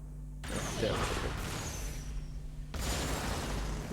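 Firework effects from the firework skin of Jinx in the Wild Rift mobile game pop and crackle in two loud bursts of sharp, scattered bangs, each trailing off into fizzing noise.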